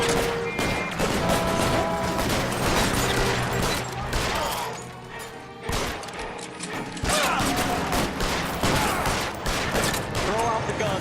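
Shootout gunfire in LA Noire: rapid, dense volleys of shots and clattering impacts crackle almost nonstop, loud and close, with a brief lull partway through.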